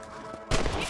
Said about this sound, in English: Get your rifle out.